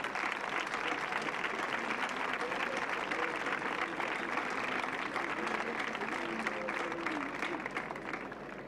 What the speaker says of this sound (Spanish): que recibimos con nuestro mejor aplauso en esta tarde de septiembre.